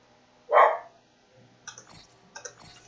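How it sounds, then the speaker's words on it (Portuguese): A dog in the video game Assassin's Creed Syndicate gives one sharp, loud bark, then quiet clicking and light game sounds follow. "Ô, dogão, não vai latir agora"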